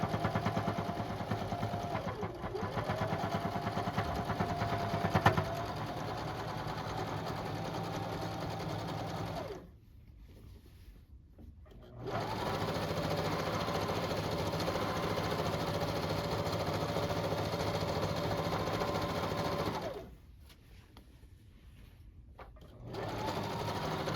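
A sewing machine stitches a pillowcase seam with a steady whirring hum in three long runs, pausing twice briefly between them; close and fairly quiet.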